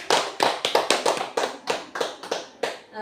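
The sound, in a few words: applause for the school principal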